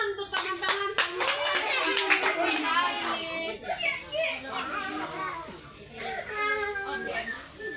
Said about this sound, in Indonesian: Oke, tepuk tangan untuk teman-teman semua.